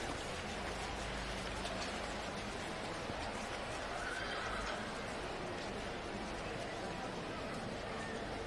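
A horse whinnies at a campdraft arena amid a steady wash of crowd and ground noise, with an announcer's voice talking over much of it.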